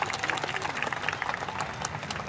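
Audience applause at a direct selling wellness event, a dense, steady patter of many hands clapping in a large room, moderately loud and continuous.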